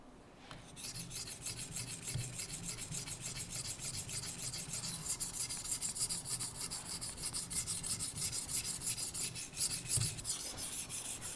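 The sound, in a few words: sharpening a plane blade on a TSPROF knife sharpener stone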